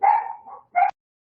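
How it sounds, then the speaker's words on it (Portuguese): A female dog barks nearby, giving one drawn-out bark that trails into a softer whine and then a short, sharp second bark. "a cachorra estava latindo"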